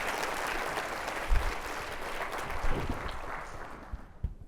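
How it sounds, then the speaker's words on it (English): Warm audience applause at a sustainability summit plenary session, a sustained patter of many hands that continues evenly, then thins and tapers off toward the end, heard from a distance in a large hall. "Let's give them all a very warm applause."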